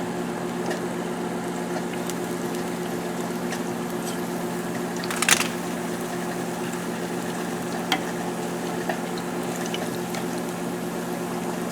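A beer-battered salmon fillet fries in hot oil, giving a steady, even bubbling hiss that runs throughout with only a brief clatter midway and no talking.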